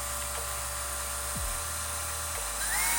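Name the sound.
drill boring a hole in a TPU antenna mount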